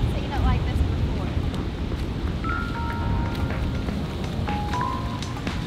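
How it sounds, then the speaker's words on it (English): Strong wind blows across a low-tide beach at Port Stephens, New South Wales, a loud continuous rumbling roar buffeting the microphone, with faint high tones and scattered noises in the background. "it's super windy"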